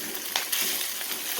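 Fried fish tail is crushed in a hot pan while making fish tail soup, giving a steady frying sizzle broken by a few sharp crunching clicks, with no talking.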